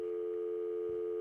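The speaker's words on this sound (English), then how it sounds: "That sound is a dial tone." A steady telephone dial tone, a continuous even hum held at constant loudness throughout with nothing else around it.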